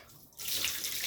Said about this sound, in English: The water starts to run down to the sprout.